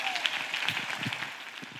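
A congregation applauds during a church prayer and intercession service, a steady wash of clapping at moderate level with no voice over it.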